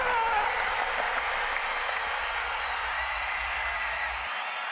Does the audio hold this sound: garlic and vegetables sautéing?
no